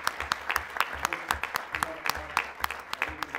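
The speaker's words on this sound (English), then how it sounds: "I ask you all to give her a round of applause." Sparse audience applause at a City of Casey council planning meeting, a modest number of people clapping in distinct, uneven beats for several seconds.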